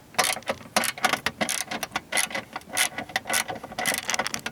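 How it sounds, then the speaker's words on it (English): A hand ratchet clicks in rapid bursts while bolts are backed off on a 2000-2007 Ford Taurus or Mercury Sable, close up, with short pauses between runs of sharp ratcheting. "Go ahead and start pulling these two bolts off right here."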